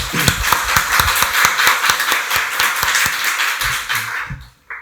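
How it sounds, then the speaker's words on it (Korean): Brisk applause from a church congregation during a Korean Sunday worship service, many hands clapping in quick irregular bursts, fading out at the end. "박수로 하나님께 영광 돌리겠습니다"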